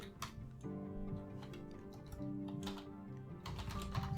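Rapid, light keystrokes on a computer keyboard rattle close up in an irregular clicking stream, with no voices over them.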